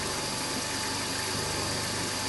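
A mini lathe spins at 1500 RPM while taking a cut, giving a steady, dense mechanical whir and hum with a faint ticking rattle, close and continuous, with no talk.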